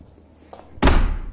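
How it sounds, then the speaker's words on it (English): A door fitted with a new threshold seal in a renovated former store swings shut with one loud, close slam, preceded by a faint rattle. "it was time to try putting the seal to the threshold and see if the door actually closes"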